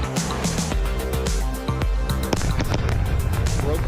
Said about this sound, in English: That sonic boom is great for us.